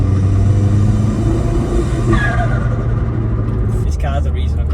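Turbocharged Vauxhall Corsa with an upgraded bigger turbo, heard from inside as a loud, steady engine drone and rumble builds under throttle, with a brief whistle-like rise, while people talk over it.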